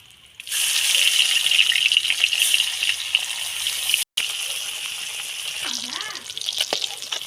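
More koi fish are added to hot oil in a kadai and break into a loud, steady sizzle that continues for several seconds. A brief break follows, then softer sputtering returns with some faint kitchen clatter.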